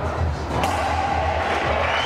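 A packed crowd cheers at a racquetball Grand Slam final in Juarez, a brief, fairly loud roar of voices with a dull thump mixed in.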